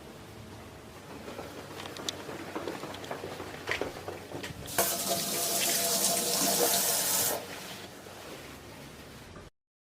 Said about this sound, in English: I'm going to go and wash my hands.